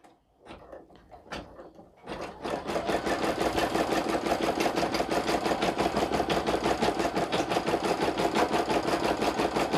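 A Brother PE770 embroidery machine stitches an iron-on patch in an applique frame, starting after a few clicks and then running at a steady, rapid, rhythmic clatter, loud and close, with no talking.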